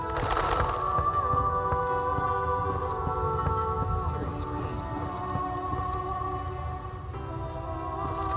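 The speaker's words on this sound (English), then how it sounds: "It's raining. Some serious rain." Heavy rain pours down in a steady, dense hiss across the whole stretch, with the faint rumble of a boat's engine beneath and a few scattered knocks.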